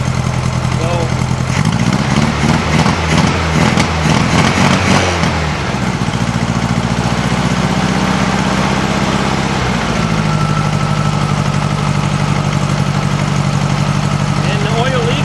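A 1956 VW Beetle engine idles steadily after a carburetor swap, a loud, continuous low rumble with a brief rise in revs early on before settling back to an even idle, with no talk over it.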